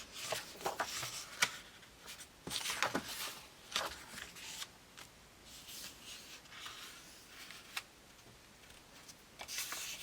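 Paper pages for a junk journal being folded and trimmed, soft rustling and crinkling with scattered sharp creases and snips, close and fairly quiet, coming in irregular bursts with pauses between.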